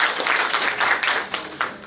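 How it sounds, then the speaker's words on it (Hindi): Audience applause breaks out at the inauguration of a registered Unani medicine federation in India, a steady wash of many hands clapping at moderate level for a couple of seconds with no voice over it. "बहुत जोरदार तालियां"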